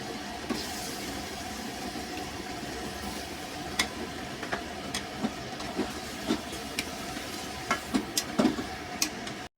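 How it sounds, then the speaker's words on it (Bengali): Walking catfish (magur) dropped into a well-fried spice paste in a pan, giving a steady, close sizzle with scattered sharp spatters and stirring clicks throughout, no voices. "এখন আমি এই মাগুর মাছগুলো দিয়ে দেবো"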